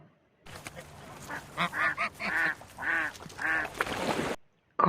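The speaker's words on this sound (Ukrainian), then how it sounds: "Качечка" Several loud, nasal duck quacks in an irregular series, close by, followed by a brief burst of noise at the end.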